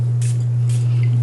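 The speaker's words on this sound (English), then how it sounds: "spray this on as my scent the rest of the night." Two short hissing bursts of fragrance sprayed from a perfume bottle, evenly spaced and fairly close, over a steady low electrical hum.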